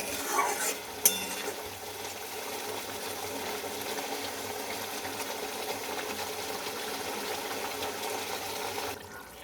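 Fish pieces simmer in a spiced Bengali curry with a faint, continuous bubbling and crackle. A couple of brief clinks sound near the start, and no one speaks.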